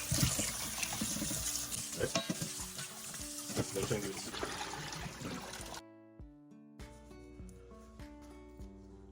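Oxtail being rinsed under a running tap in a kitchen sink for a Jamaican-style dish, with steady splashing water and clattering handling sounds for about six seconds before the flow stops and background music carries on.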